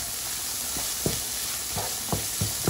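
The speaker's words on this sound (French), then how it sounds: "Je mélange bien ensemble et c'est parti pour 1 à 2 minutes." Cumin and fennel powder with salt stirred in a hot frying pan for chicken cutlets, a steady sizzle broken by several short scraping strokes of the spoon, close and fairly loud.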